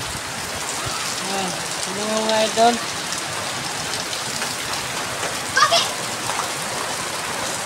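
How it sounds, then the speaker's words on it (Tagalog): Steady rain pouring down with a constant hiss of drops on surfaces, while someone speaks briefly over it. "Ang lakas ng ulan oh."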